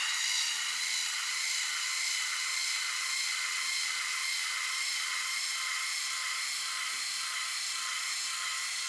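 An Instyler rotating iron straightening curly Brazilian hair gives a steady, high-pitched motor whir, close and constant for the whole stretch with no voices.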